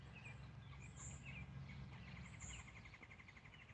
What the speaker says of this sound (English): Oh, wow, such interesting sounds I'm hearing. All kinds of birds.